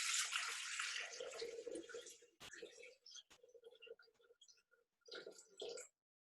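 Water pours into a Thermomix bowl with a rushing, gurgling splash that tapers into intermittent trickles and drips, then a short final burst, heard close up with no talk over it.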